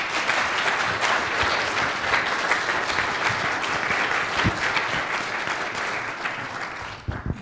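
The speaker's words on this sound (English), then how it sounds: "Let's give our panel a round of applause." A conference audience applauds a panel at the end of a session, a dense, even wash of clapping that holds for about seven seconds before tapering off.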